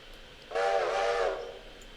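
A train whistle sounds one sustained, harmonic blast lasting about a second on a railroad, rising abruptly from a quiet background and fading out, heard from a moderate distance.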